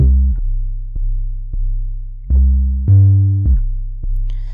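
Layered 808 synth bass programmed in Reason 11, a run of deep sustained bass notes with pitch-wheel bends reaching up an octave, loud and close, each note decaying before the next hit, with no voice.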